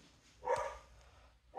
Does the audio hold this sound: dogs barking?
yes